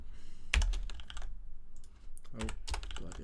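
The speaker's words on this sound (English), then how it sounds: "my typing is atrocious" Someone types on a computer keyboard while writing game-hacking code, with bursts of quick, close clicking keystrokes, several louder key strikes and short pauses between runs.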